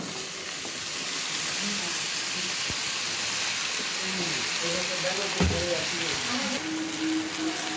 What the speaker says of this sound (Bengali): এবার এর মধ্যে ধুয়ে রাখা সবজিগুলো ঢেলে দেব